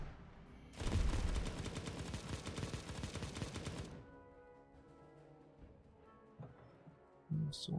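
Rapid cannon gunfire in the steampunk video game Steampunk Tower 2: a dense, loud, continuous barrage of booming shots lasting about three seconds, then dying away into quieter game sounds and a few soft thumps.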